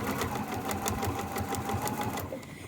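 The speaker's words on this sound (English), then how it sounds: "we're going to, like I said, sew directly on that line" A sewing machine stitching a diagonal seam across a small fabric square, a close, rapid, even mechanical chatter running continuously before stopping at the end.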